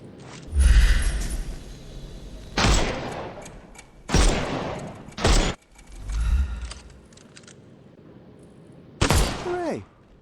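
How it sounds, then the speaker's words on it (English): In a Sherlock Holmes video game, gunfire knocks armour off enemies as several loud separate shots with thuds and swooshes, spaced between quieter stretches. "Shoot off their armour."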